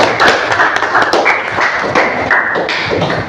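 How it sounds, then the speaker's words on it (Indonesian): A junior high school classroom claps for a group after its presentation, with a dense, close burst of many hands applauding in steady rapid taps and thuds. "Tepuk tangan untuk kelompok 1."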